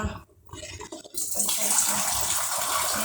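Water poured from a vessel into rice for cooking, starting with a few faint splashes and then becoming a steady, close gushing pour that fills the rest of the moment, with no talking.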